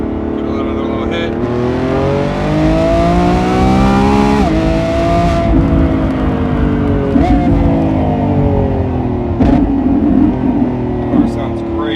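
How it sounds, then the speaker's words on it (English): Lamborghini Revuelto V12 revving hard, loud and close, rising through several climbing pitch sweeps, falling back, then flaring again in sharp bursts, with people talking and reacting over the engine. "Car sounds great. Gotta love the V12."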